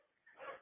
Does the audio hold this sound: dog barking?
yes